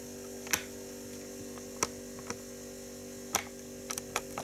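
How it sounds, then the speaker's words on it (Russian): Refrigerator humming steadily at a low, faint level, with a few soft ticks and clicks scattered over it in a quiet room. "холодильник загуел"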